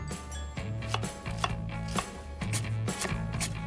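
An onion is chopped on a board in a home kitchen, a run of sharp knife strikes in uneven bursts with short pauses, close and fairly loud with no talking.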